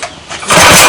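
A Manco Black Fox go-kart engine with a small carburetor is pulled over and catches, rising from a sputtering crank into a loud, steady close-up roar.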